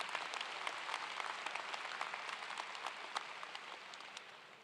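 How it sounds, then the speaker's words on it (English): A commencement audience at Southern Connecticut State University gives a sustained round of applause, a dense, steady patter of many hands that stays even throughout and fades slightly at the end, with no voices heard. "Let's give them another round of applause."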